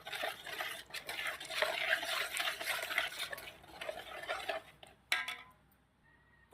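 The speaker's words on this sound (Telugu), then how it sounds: "ఇందులో ఈ బేసన్లో పౌడర్ వేసి కలుపుకోవాలి." Tomato pickle powder is stirred and mixed in a metal basin, soft scraping and clinking of a spoon against the vessel close up, fading to near silence with a final tap.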